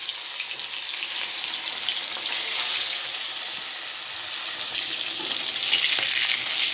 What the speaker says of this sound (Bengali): তেল গরম হয়ে গেছে এখানে যে আমি মাছটা মাখিয়ে রাখছিলাম এটা এখন দিয়ে দেবো